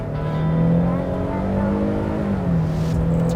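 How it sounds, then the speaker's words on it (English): A 2022 Nissan Frontier pickup with a 9-speed automatic accelerates hard at full throttle, its engine droning loud and close with a steadily rising, harmonic-rich tone. Its rear tires break traction. "let's see how this thing pulls. Foot to the ground."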